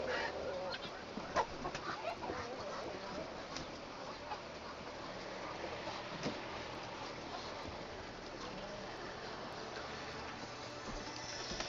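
Ducks and chickens in a farmyard honk, quack and cluck steadily throughout, a dense overlapping flock chorus at close to moderate distance with occasional louder calls standing out.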